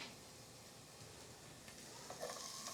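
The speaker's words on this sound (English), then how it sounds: "Throw a little olive oil in there. Get my onions in there." Onions sizzling in hot olive oil in a pan for a Philly cheesesteak, a steady quiet frying hiss with a brief stir near the end and no talking.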